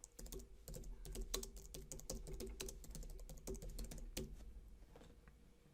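Rapid typing on a computer keyboard while searching Google, close and crisp with irregular bursts of key clicks and a brief pause near the end, no talking.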